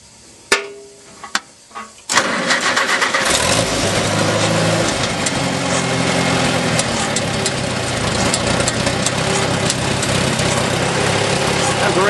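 A few sharp clicks, then a Farmall tractor engine cranks and catches, settling into a loud, steady running rumble close by.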